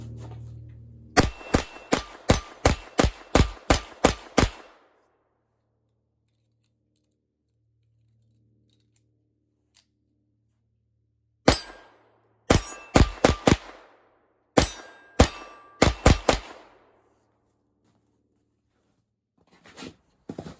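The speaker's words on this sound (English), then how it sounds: "I'm just going to shoot at those steel plates." Winchester White Box .22 rounds fired at steel plates about eight yards away, heard as rapid strings of sharp, loud cracks in quick bursts of several shots separated by quiet pauses.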